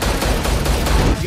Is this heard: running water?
no